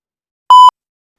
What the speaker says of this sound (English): Maybe there'll just be an error beep after this